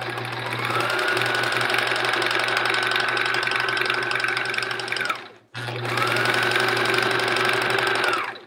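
A sewing machine stitching quilt fabric scraps, a fast, even mechanical whir running steadily for several seconds, pausing briefly, then resuming, close and fairly loud.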